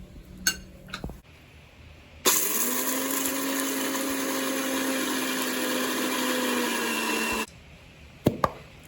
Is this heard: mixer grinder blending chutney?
yes